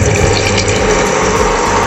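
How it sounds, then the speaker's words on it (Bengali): Half a cup of water pours into a hot pan for a fish head curry, a short, loud, close gush of splashing liquid that stays steady throughout. "এবারে এর মধ্যে 1/2 কাপ জল দিয়ে দেবো"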